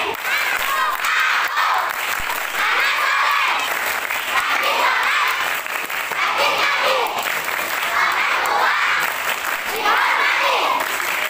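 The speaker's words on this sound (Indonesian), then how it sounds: "Tepuk anak soleh." A large group of schoolchildren at a Maulid Nabi school celebration loudly clapping and chanting together in the rhythmic tepuk anak soleh routine, a dense continuous crowd sound.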